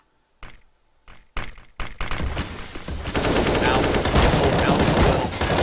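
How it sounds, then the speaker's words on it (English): Gunfire in the video game Counter-Strike: Global Offensive, a few single sharp shots spaced apart, then rapid sustained firing building into a loud continuous barrage, with a commentator's voice faintly underneath. "Shots through the gap in the smoke"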